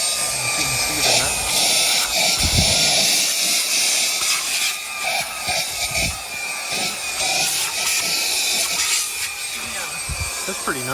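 A portable handheld brushless car vacuum runs steadily with a loud, high-pitched motor whine and airflow hiss, with small scraping and knocking as it is moved about.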